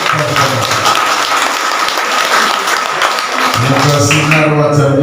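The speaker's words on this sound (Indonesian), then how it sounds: "Tepuk tangan untuk" At a Christmas church celebration, a congregation claps loudly and densely, the applause mixing with murmured voices and a sustained musical tone that comes in toward the end.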